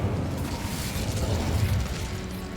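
A fire spell cast in Hogwarts Legacy, Incendio, gives a dense, steady roaring rush of flame that holds at an even, loud level with no pause.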